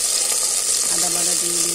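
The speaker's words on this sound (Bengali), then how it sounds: "পেঁয়াজ কুচি দিয়ে দিলাম, পেঁয়াজ বাটা দিয়ে দিলাম" Chopped onion and onion paste fry in hot oil in a kadai with cardamom and cinnamon for fish khichuri, giving a loud, dense, continuous crackling sizzle close up, with a brief voice faintly over it.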